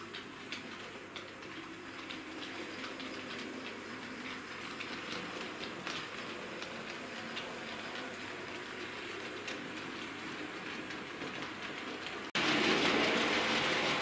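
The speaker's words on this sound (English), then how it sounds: "just to show the slow speed running of the train" A small Bachmann OO gauge Robinson Class O4 model locomotive rumbles slowly along its track with a steady clicking rhythm, fairly faint, before a sudden louder rush of noise at the end.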